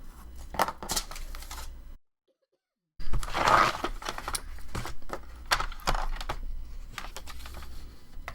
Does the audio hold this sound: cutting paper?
yes